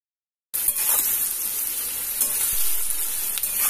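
Chilli chicken with added salt sizzles and fries in a pan while being stirred, a steady close hiss starting after a brief silence and continuing throughout.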